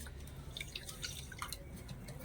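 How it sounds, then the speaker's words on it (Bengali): Water trickles and drips into a bowl of sugar to make syrup for palm-fruit sweets, about one and a half bowls of water per bowl of sugar; faint, scattered drips over a low background hum, with no talking. "দিয়ে দিচ্ছি জল"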